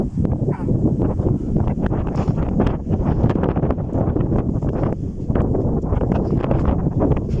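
Strong desert wind carrying dust buffets the microphone in loud, continuous gusts with rough rumbling throughout.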